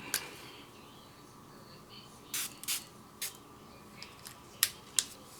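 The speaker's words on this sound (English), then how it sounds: "I'm going to spray this down a little bit." Several short, sharp spritzes from a spray bottle misting paper for a card-making project, spaced irregularly over a quiet background, close to the microphone.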